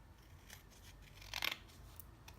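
Scissors trim paper for a handmade zine in a few quiet, close snips, with one sharper cut standing out in the middle of a soft, otherwise still room.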